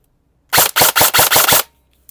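A VFC MK18 Mod1 airsoft rifle, upgraded with a 160 spring, fires a full-auto burst of about six rapid, loud, close shots over roughly a second, then stops.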